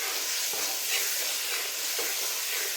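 Shrimp sauté in oil that has been cooked down with spices, a steady bright hiss of frying with a couple of soft stirring bumps and no voices.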